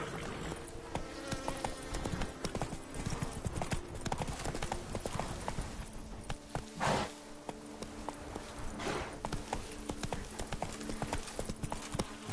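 Roach, the horse in The Witcher 3 game, gallops in a fast, continuous drumming of hooves over a busy game soundscape with buzzing insects, loud and close throughout.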